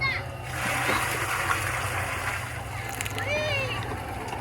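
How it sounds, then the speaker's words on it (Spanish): Water from a bucket sloshes and splashes into a backyard fire pit form ahead of cement, sand and gravel, a few close splashing bursts while a person talks over them. "primero se le echa un bote de agua"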